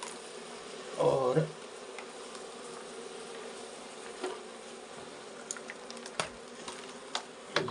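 Honeybees in a hill-village hive in Uttarakhand buzz steadily as they are driven off the combs, a continuous drone with a louder burst near the start and a few faint knocks and a brief word.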